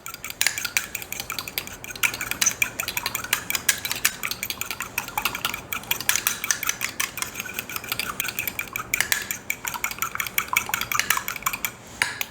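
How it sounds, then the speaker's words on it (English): Egg and cream whisked together in a bowl for an empanada egg wash, a steady run of quick metal-on-bowl clinks and scrapes with a wet swish, close and alone with no talking. "I'm going to mix the egg and cream up."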